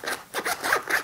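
A zipper pulled along the zippered security pocket of a Maxpedition organizer pouch, several quick rasping strokes in a row, close and moderately loud with no talking.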